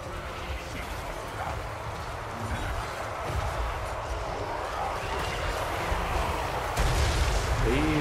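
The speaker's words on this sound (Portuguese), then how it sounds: "Esse é meu canhão que era pra estar atirando" Cannon artillery booms in the Total War: Warhammer 3 video game, firing dull and repeatedly within a dense battle din while someone talks over the action.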